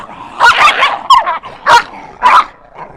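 Several sharp barks and yips from a pet dog in a lively home setting, sounding in quick separate bursts at close range, with a loud, excited tone and no speech over them.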